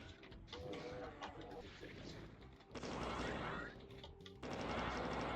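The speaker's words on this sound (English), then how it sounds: "avoid getting shot by machine gunners" Sustained, rattling machine-gun fire from enemy gunners in the Doom video game, dense and continuous with louder surges partway through, alone with no talk.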